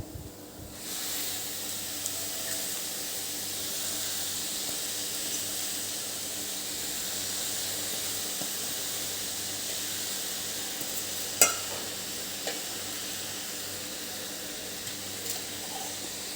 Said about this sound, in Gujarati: હવે આપણે આ ધોયેલી ભાજી છે તે એડ કરી દેવાની